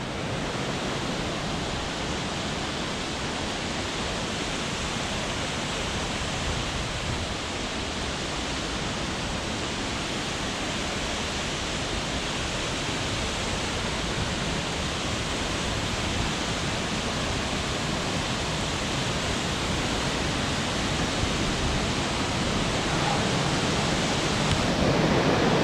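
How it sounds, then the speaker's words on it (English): A mountain waterfall on Ruapehu, New Zealand, roars as a steady, dense rush of falling water that stays close and loud for the full length, with no voices over it. "It's a cool waterfall."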